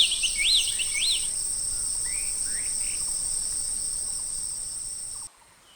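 Forest insects and birds at sunrise in an animated picture-book story: a steady, shrill cricket-like drone runs throughout while a few bright, sweeping bird chirps ring out near the start, all cutting off abruptly just before the end, no voices.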